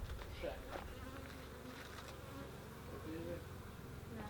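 Honey bees buzz steadily throughout a beehive inspection at an apiary in Šentrupert, Slovenia, a dense, close swarm hum with a few individual bees droning louder as they pass near.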